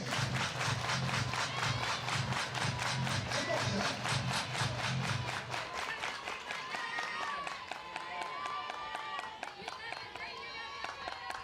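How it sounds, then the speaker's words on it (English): At a college softball stadium during a Florida versus Mississippi State game, the crowd claps in a steady rhythmic beat that carries on throughout, joined by music with a thumping low beat in the first half. "Everybody clap your hands."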